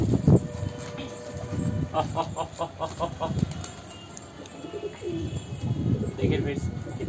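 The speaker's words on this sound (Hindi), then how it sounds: "कबूतर जो है ना एकदम फ्रेंडली बर्ड होता है" Pet pigeons coo repeatedly in soft throaty bursts while they feed together from a hand, close by, with some background noise and a few chirps mixed in.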